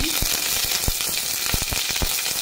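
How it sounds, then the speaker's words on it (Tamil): Curry leaves drop into hot oil with browned fried garlic, setting off a loud, steady sizzle and crackle with occasional stirring knocks close to the pan. "பூண்டு செவந்து வந்துடுச்சுங்க கருவேப்பிலை சேர்த்துக்கலாங்க"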